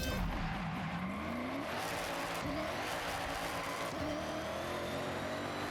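A car in Forza Horizon 6 accelerates hard, its engine note climbing and dropping sharply through quick gear shifts, loud and close, with a faint tire squeal underneath.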